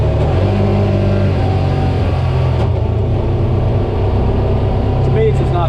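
Honda Pioneer 700 side-by-side engine revving and pulling up through manual gears, a steady loud mid-pitched drone with rises at shifts, heard close from the driver's seat with a voice talking over it.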